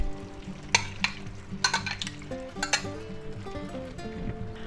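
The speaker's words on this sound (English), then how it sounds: "Now we're going to add our pre-cooked marinated pork back in there" Marinated pork and vegetables stir-frying in a pan, with steady sizzling under scraping and stirring of a utensil, and a few sharp clanks against the pan.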